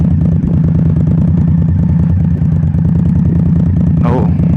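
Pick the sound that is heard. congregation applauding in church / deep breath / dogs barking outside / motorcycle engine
motorcycle engine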